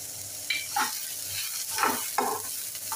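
Onion frying in a pan with ginger and garlic just added, a steady close sizzle with several brief spatula scrapes and stirring bursts over three seconds.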